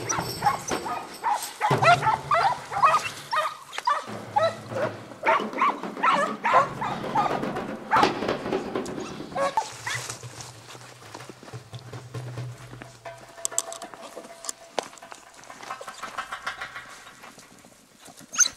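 Greek Hound hunting dogs bay and bark repeatedly while tracking a hare through a ravine, in loud, overlapping bursts at close to middle distance that fade into a quieter, more distant chorus.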